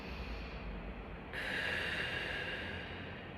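Slow, deep breathing during a hip flexor stretch, a steady airy rush that swells louder partway through and holds, close and alone with no talking.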